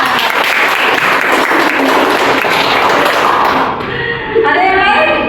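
A classroom audience at a teaching-practice session claps loudly and steadily for roughly four seconds before the applause stops abruptly and a voice speaks.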